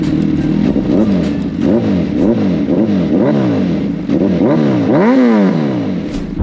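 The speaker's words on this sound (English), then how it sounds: "I know that exhaust sounds good, man." A Suzuki Hayabusa motorcycle exhaust revs repeatedly, rising and falling in loud, close bursts with a rough, throaty rumble.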